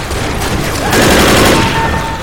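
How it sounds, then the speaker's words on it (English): Gunfire in the video game Left 4 Dead as a propane tank is shot, a loud burst of rapid shots swelling into a blast and roar that fades out. "I shot the propane tank like someone said to."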